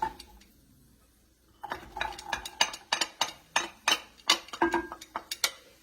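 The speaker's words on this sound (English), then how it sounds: "right now, we're just going to add the onion and the celery into the pot" Chopped onion and celery drop into a pot for chicken soup with ginger and turmeric. A quiet pause comes first, then a run of close, sharp clinks and scrapes of a utensil against the pot in a steady rhythm.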